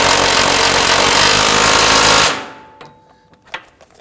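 A power tool tightens the rear lower control arm bolts on a 2013-2019 Ford Explorer Interceptor, a loud continuous rattling whir for about two seconds that cuts off, followed by a few faint metallic clinks.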